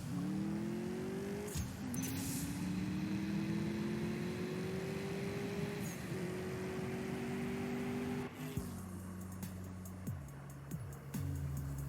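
A Mercedes-AMG S 63 Coupe makes a drag race run in the CSR2 mobile racing game. The engine revs climb steadily and loudly, with a short break at each gear change and a final shift near the end. No one talks.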